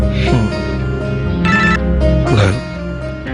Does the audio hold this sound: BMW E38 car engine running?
no